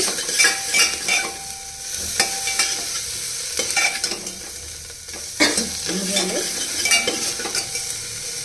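Spices with half a spoon of red chilli powder are stirred and fried in a pan for dal, giving a steady loud sizzle broken by repeated scraping strokes of a spoon.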